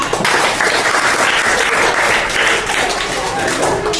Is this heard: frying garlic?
no